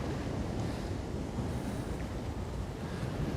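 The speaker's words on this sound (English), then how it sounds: "There's some big waves crashing on the rocks there." Big sea waves crash against seafront rocks, a steady roaring surf with wind buffeting the microphone and no voices.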